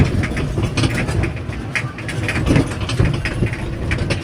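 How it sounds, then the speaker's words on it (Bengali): A toy train runs through a large park with a continuous mechanical rumble and rattle. The sound stays fairly loud and close, with small rhythmic bumps. "এটা তেলেঙ্গানা স্পেশাল ট্রেন।"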